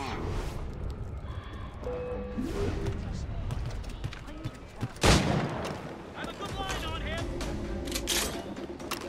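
Assassin's Creed Rogue gunfire with sharp shots and one loud blast midway, layered over continuous game noise and someone talking.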